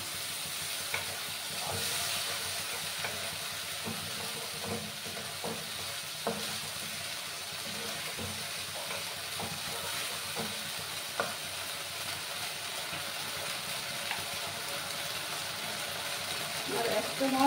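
Turmeric and spice masala sizzling steadily in hot oil in a pan for a Bengali rui fish curry with gathi kochu, with scraping stir strokes and light clinks throughout, close and continuous, no talking.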